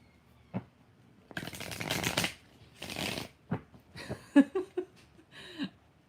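Tarot cards are shuffled up close in two brisk riffling bursts, followed by a few soft taps and a quiet chuckle, with little talk.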